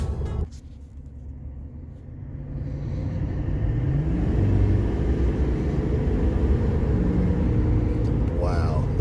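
A 2021 Chevy Silverado 2500 HD LTZ 4X4 pickup with a 6.6L Duramax diesel engine and mud tires rumbles steadily, its deep, throaty drone building in loudness and staying close and sustained, with a brief voice near the end.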